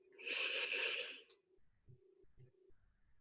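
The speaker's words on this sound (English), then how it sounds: "take a big breath" A person takes a deep breath in and lets it out during a calm anxiety-tapping session. One long, close, airy breath runs for about a second and a half, followed by quiet, faint low murmurs.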